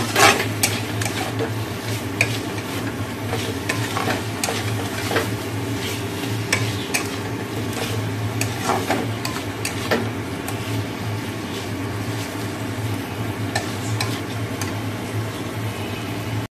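Chicken curry cooking in a pan after hot water goes in: a constant loud bubbling sizzle with a low rumble and scattered light utensil clinks, no talking.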